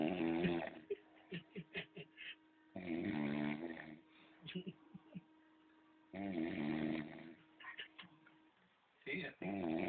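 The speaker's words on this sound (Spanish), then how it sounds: "El ronquido de una lady." A person snores in deep, drawn-out rasping bursts, three long loud snores spaced a few seconds apart, with quieter breaths, clicks and a soft hum between them.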